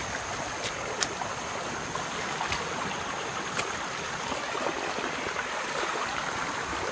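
River flowing beside an overgrown jungle path: a steady, even rush of water fills the whole stretch, with a few faint clicks over it and no talking.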